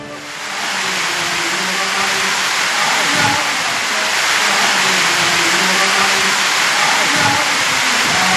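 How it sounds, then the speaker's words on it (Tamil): Heavy rain water pours down the hill temple steps at Palani like a waterfall after more than three hours of downpour, a loud, steady rushing roar that holds unbroken throughout. "மலைக்கோயில் படிக்கட்டுகளில் அருவி போல் கொட்டிய நீர்."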